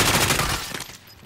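Gunfire in the Call of Duty Warzone video game: a dense burst of rapid shots, loud at first, then thinning and fading over about a second.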